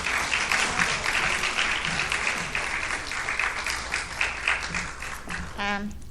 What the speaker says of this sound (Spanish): démosle un aplauso a la hermana